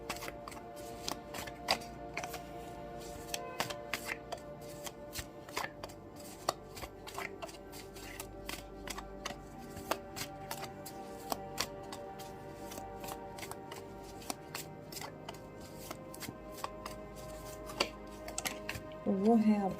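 Tarot cards being drawn and handled from a deck, with a long run of sharp papery clicks and shuffles, some in quick bursts, close up and fairly quiet, without any talk.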